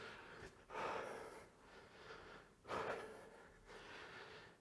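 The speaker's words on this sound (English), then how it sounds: "As you can probably hear, steady breathing." Heavy, steady breathing during a kettlebell workout: three loud, rough breaths in a regular rhythm, each a drawn-out rush of air, close to the listener with no talking.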